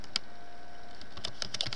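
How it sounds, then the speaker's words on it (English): Light keyboard typing at a computer, a handful of quick soft key clicks spaced irregularly, close by and fairly faint, with no talking. "Once you're done typing something in here, make sure you click Enter"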